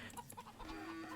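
Chickens in Age of Empires II clucking in a short cluster of soft, overlapping bird calls over game ambience, with no talk.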